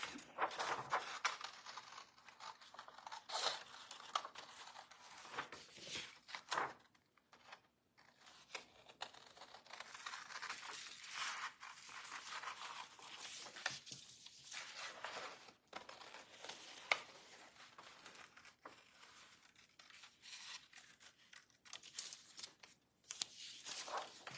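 Scissors work through traced paper shapes in steady, close snipping and rustling, a soft continuous crunching with brief pauses as the paper is turned.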